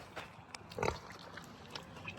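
A saddleback pig grunts in its pen on a farm, with one short close grunt in the middle and faint snuffles against quiet outdoor background.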